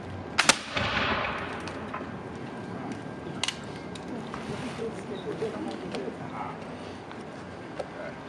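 Ceremonial rifles fire at a veterans wreath ceremony on Staten Island: two sharp cracks come close together early on, then fainter reports follow amid outdoor crowd noise.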